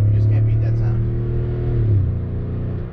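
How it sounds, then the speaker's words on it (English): A 2020 Toyota Tundra TRD Pro V8 pickup revving through its dual exhaust, a loud close deep engine drone that drops in pitch as the revs fall, with someone talking over it. "let's hear the TRD dual exhaust go to town here"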